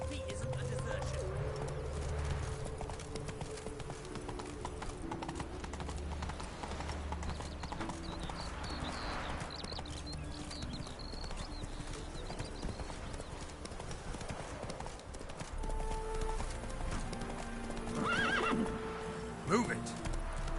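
Roach, a horse in the video game The Witcher 3: Wild Hunt, clip-clops steadily at a gallop with loud neighs and whinnies, over music and ambient bird coos, with speech in places.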